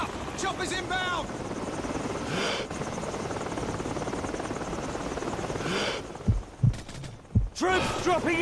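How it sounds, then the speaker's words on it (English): Military helicopters arrive over a Call of Duty: Modern Warfare battlefield, a steady loud rotor roar running throughout, with bursts of gunfire near the end and shouted game voices over it. "Heads up! Choppers inbound!"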